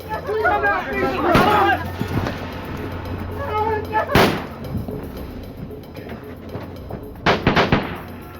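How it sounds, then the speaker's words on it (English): Gunshots in a reenactment of a coffee shop shooting: several sharp bangs, one near the start, one in the middle and a quick cluster near the end, heard under someone narrating. "He shot her first, then the others."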